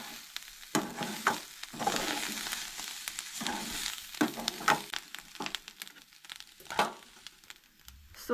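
Ingredients for a Goan red amaranth leaf curry are sautéed in a pan, a soft continuous sizzle broken by repeated scrapes and clicks of a spatula stirring at irregular intervals.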